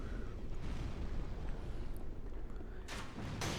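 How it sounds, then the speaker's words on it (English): Exploding crossbow bolt detonating in Dark Souls 3 PvP combat, a dense rumbling blast sustained over the clip, with sharper bursts near the end, loud and close. "I can shoot off an exploding bolt into the group of them and hopefully kill the host"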